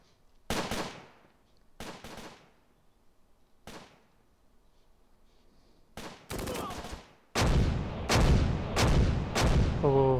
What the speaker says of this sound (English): Artillery in this game, it feels so powerful.